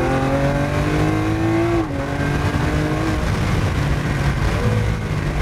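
A 2015 Lamborghini Aventador Roadster engine revs hard and loud, with a sustained rising howl. There is a brief dip near the two-second mark, and then the sound continues strong to the end.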